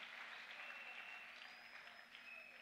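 A church congregation applauds in a steady, continuous wash of clapping, distant and fairly soft, sustained throughout without a break.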